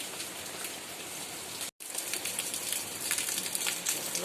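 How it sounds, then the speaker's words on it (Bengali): Steady rain patters densely on taro leaves, a continuous close shower of drops with a brief silent break partway through. "টিপটি টিপটি করে ভালো বৃষ্টি হচ্ছে"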